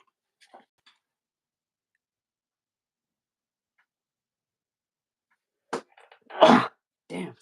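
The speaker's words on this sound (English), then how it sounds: "sneeze." A single sharp sneeze bursts out near the end of a mostly silent stretch, after a few faint ticks, with a short voiced sound following it.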